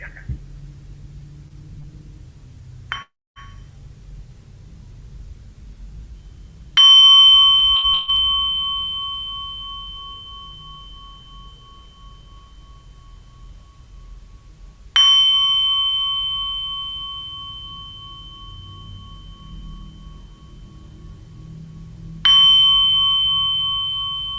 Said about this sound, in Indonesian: mari kita napas masuk, napas keluar dengan suara gong tiga kali